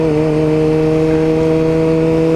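Steady, loud drone of a Yamaha R6 sport bike engine running on a new chain and sprocket setup, holding an even high-idle rev for the whole stretch with no talking.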